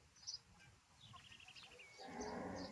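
A Gir cow lets out a low moo near the end, faint and somewhat distant, with birds chirping softly in the background.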